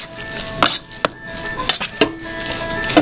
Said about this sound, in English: I'm gonna go ahead and mix.